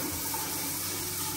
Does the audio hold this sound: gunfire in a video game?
no